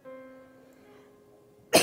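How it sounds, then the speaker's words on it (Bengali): A single sharp, close cough bursts out at the very end, after a quiet stretch with a faint steady tonal hum and no talking. "আমার কাশি হয়ে গেছে।"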